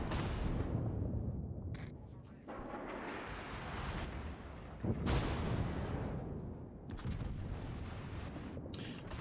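Heavy naval gunfire in World of Warships, aimed at the Kiev: deep, rumbling booms with long roaring tails, one at the start and another midway, with further blasts later, loud and continuous with no voices.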